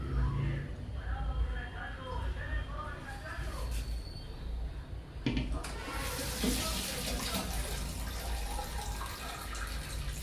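Water poured into a cooking pot for a thin lentil broth, a steady splashing pour that grows louder and brighter partway through, with a voice talking over it.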